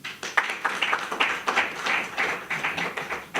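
Audience applause at a political rally, a scattered crowd clapping in uneven bursts, moderately close, with no talk over it.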